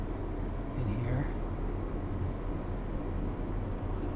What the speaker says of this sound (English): Sorry about the noise. They have an AC unit wired up in here.